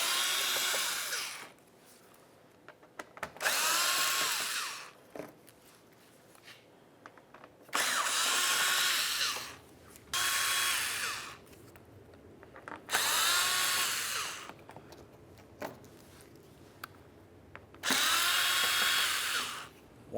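Power drill backing out Phillips head screws on a Nissan Sentra, several bursts of whirring each lasting a second or two with pauses and handling noises between them, close and fairly loud.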